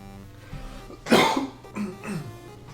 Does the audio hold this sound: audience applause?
no